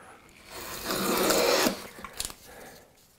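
A Stanley Gage hand plane with its chip breaker fitted takes a shaving off wood. One rasping stroke lasts under a second, followed by a few faint wooden knocks and clicks.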